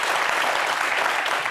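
Sustained applause from a live television show audience, a dense, steady wash of many hands clapping close and loud for the full stretch without pause.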